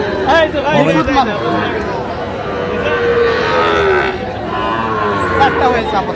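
Cattle, including Sahiwal bulls, moo loudly and repeatedly at a cattle market in Cumilla, Bangladesh, the low bellows overlapping with a busy background of chatter and crowd noise.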